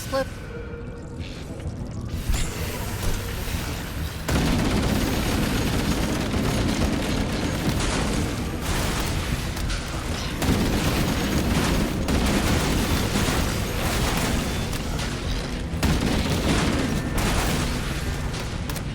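Grenade and rocket explosions in the Halo video game, heavy booms layered with gunfire and mechanical game noise, loud and continuous throughout with no talk.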